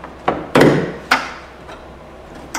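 Retaining clips are pushed into place on a Tesla Model X frunk, giving several sharp separate snaps and clicks with short pauses between them, close by with no talking.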